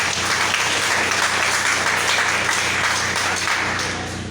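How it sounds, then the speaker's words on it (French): Steady crowd applause at a journalists' gathering in Jacmel, Haiti, given for the speakers, a full, even wash of many hands clapping that carries on for four seconds and eases slightly at the end. "je vous demande des applaudissements pour tous les intervenants"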